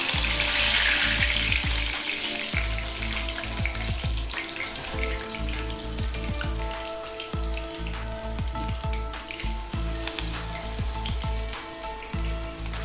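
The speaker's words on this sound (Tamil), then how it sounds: "உருண்டை பண்ணிட்டு அதை அப்படியே தட்டி நல்லா இப்படி தட்டி எண்ணெயில் போட்டுடலாங்க" Masala vada patties, hand-flattened lentil fritters, fry in hot oil with a steady, dense crackling sizzle and scattered bright pops running the whole time, close and fairly loud, with no voices.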